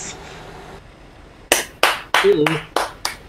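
A person claps hands during an online truck-driving game session: after a quiet start come about six sharp, close claps in an uneven rhythm, with a brief voice sound under them.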